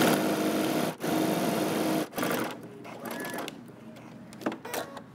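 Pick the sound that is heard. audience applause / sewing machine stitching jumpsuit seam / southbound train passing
sewing machine stitching jumpsuit seam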